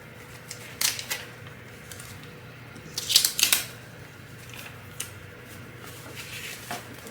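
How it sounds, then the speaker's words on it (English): Scissors snip through craft heat transfer vinyl in a few separate crisp cuts, with a cluster of quick sharp snips midway, close and alone against a quiet room. "I'm actually going to trim this down a little bit"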